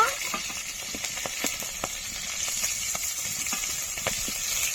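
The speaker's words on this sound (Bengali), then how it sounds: "খুব ছিটছে, কারণ পুকুরের মাছ তো" Shing pond fish frying in hot oil give a continuous bright sizzle with frequent sharp pops and splatters, close and steady throughout.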